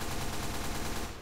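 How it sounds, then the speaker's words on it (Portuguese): SMG gunfire in Team Fortress 2, a loud, continuous burst of rapid shots that stops abruptly just before the end. "os tiros da SMG estão indo mais reto"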